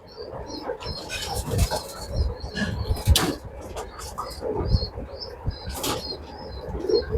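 Male racing pigeon of Piet van de Vijver bloodline, hatched 2023, cooing repeatedly in a loft, soft throaty coos recurring over a busy rustling background with other birds nearby.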